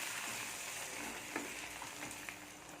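Steady sizzling and frying hiss from a pot of rice payasam cooking with ghee, with a few soft scraping clicks of a spoon stirring through the thick milky liquid, close and continuous.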